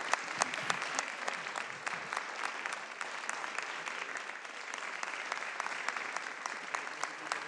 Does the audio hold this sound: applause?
yes